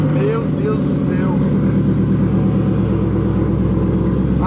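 A Chevrolet Camaro with only straight pipes for exhaust revs hard and loud up close, a deep continuous engine roar that swells and holds for several seconds with no pauses.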